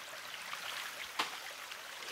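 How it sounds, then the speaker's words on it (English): A waterfall and stream in the survival video game The Forest give off a faint, steady, distant rushing wash, with one brief sharp click partway through. "You follow the lake until you get to the waterfall. Just follow the sound there."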